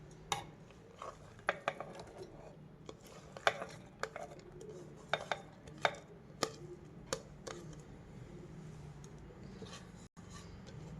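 Onions going into a vessel for green masala paste, a series of sharp, brief clinks and knocks scattered irregularly over a quiet background, close and fairly soft, with no voices.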